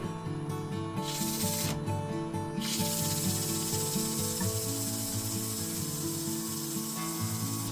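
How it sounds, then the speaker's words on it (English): A walnut vase base spins on a wood lathe while it is sanded, giving a steady mechanical whir with layered motor hum, a buzzing rasp, and brief bright bursts of high hiss near the start. "I give this area one final sanding"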